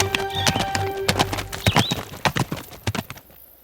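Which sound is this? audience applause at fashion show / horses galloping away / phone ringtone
horses galloping away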